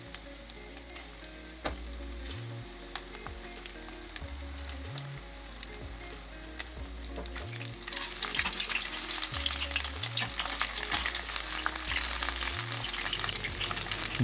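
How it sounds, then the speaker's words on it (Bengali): Marinated chicken pakora pieces frying in hot oil, a continuous crackling sizzle that swells noticeably louder and busier partway through, with soft low thumps repeating at intervals underneath. "তেলটা গরম হয়ে গেলে একে একে করে ম্যারিনেট করা চিকেনগুলো তেলে ছেড়ে দেব।"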